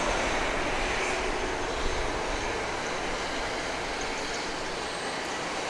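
A Challenger 300 business jet sits on the runway at Grand Cayman with its engines running, a steady, broad roar and whine held at a constant, fairly distant level, and no talking.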